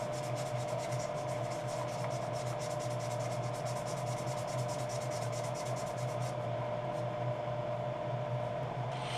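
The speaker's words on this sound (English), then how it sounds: "sand lightly over it, and the sanding dust will combine with the glue and fill the defect" Sandpaper rubbing steadily against a spinning redwood bowl on a lathe, the dry porous wood throwing off dust; a continuous close scratchy hiss over the lathe's hum, unbroken for the whole stretch with no talking.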